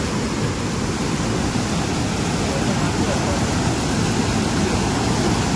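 Rushing water pours steadily during heavy monsoon rain in the Konkan, a dense, unbroken loud hiss and roar that never lets up; a voice talks over it.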